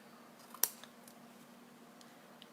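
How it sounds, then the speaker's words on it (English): Scissors trimming ribbon tails on a handmade card give one crisp, close snip, followed by a few faint light clicks in a quiet room. "And we just need to trim that. Where are my scissors?"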